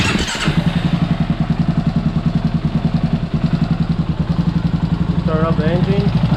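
A 2023 Kawasaki KLR motorcycle engine fires up close by and settles into a loud, even, thumping idle that holds steady, with a brief voice near the end.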